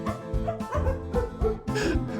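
A dog barks and yips in the Majotori video game, a few short woofs spread across a couple of seconds over a busy game music bed, with no talk.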